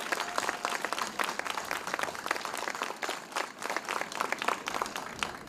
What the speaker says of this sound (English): Can we please just give a round of applause for all of our vendors who are here today?